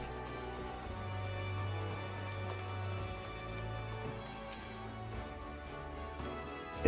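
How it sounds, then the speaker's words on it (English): Rain falling in Final Fantasy 14, a soft, steady patter over a low ambient hum, faint and continuous throughout with one brief brighter splash partway through. "Hey, it's raining."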